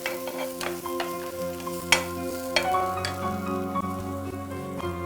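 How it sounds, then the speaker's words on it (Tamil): Green chillies sautéing in a pan for Kerala-style fish cutlet, a steady close sizzle with scraping stirs and clinks of a spoon against the pan, no talking. "பச்சை மிளகா இப்போ நல்லா போட்டு நல்லா வதக்கிட்டோம்"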